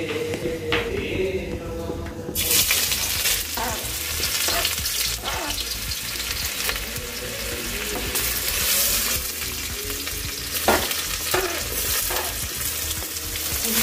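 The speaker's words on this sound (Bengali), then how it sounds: "এবার পেঁয়াজটা একটু ভাজাভাজি করে এদিকে" Onions sizzle and fry in a pan while chowmein is being cooked outdoors, a steady close crackle broken by sharper bursts of stirring, with no talk.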